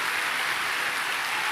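A church congregation applauding together, a dense, even wash of clapping that holds steady and fairly loud throughout with no voices.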